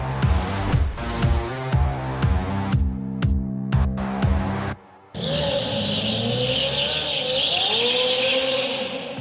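McLaren Senna track car engine revving in a run of sharp rising bursts, then a short gap, then a loud sustained high-pitched drone as it drives past.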